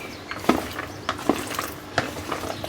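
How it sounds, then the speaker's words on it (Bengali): Mango pieces are stirred with salt and turmeric for a karamcha pickle, giving a few soft clacks and scrapes of a spoon against the bowl over a low background hiss, close by. "একটু লবণ আর হলুদ দিয়ে যে নেড়ে চেড়ে আমের মধ্যে একটু ঢুকাই দিই"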